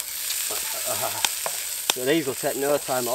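Foraged prawns frying in a pan at a coastal bushcraft camp, a steady sizzle with sharp crackles under a voice speaking throughout.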